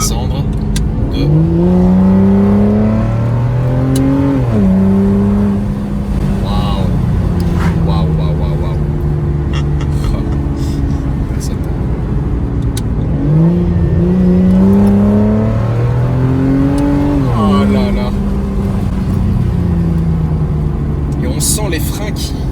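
An Aston Martin DB9 Mansory V12 blips its revs sharply on two downshifts, each followed by a falling engine note, heard from inside the car with someone talking over the engine.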